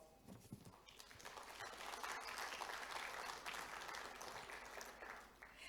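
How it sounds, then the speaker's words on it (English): Applause from the audience at a science symposium swells from scattered claps into a full, sustained round, then eases slightly toward the end, heard at some distance in a large hall. "Ladies and gentlemen, please give us a round of applause."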